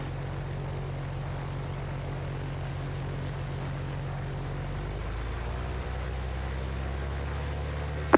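A Cessna 195 radial-engine propeller airplane roars steadily at takeoff power from inside the cockpit, a loud continuous drone whose pitch shifts midway as the engine note changes, with no talking.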